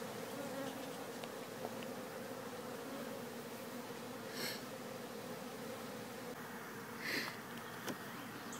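Honey bees from a colony cut out of an old vet building buzz steadily on a brood frame, a continuous low drone with a few louder passes of individual bees close by, no voices.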